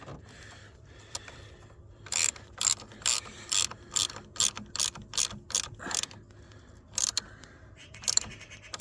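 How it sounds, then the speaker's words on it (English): A ratchet torque wrench clicks in a steady series of sharp ratcheting pulls while tightening a bolt on a Saab 9-5, close up, with brief mechanical clanks between strokes. "Now we need to torque this to spec,"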